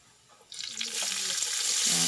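Stock for ginataang pechay poured into a hot cooking pot over onion and garlic browning in oil: a quiet start, then a sudden loud rush of hissing, bubbling liquid that keeps building.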